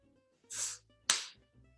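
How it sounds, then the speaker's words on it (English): Two quick bursts: a breathy rush followed by a sharp smack, close and crisp, with quiet before and after. "She slaps him."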